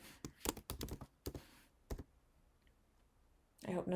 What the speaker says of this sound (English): So you can type that in.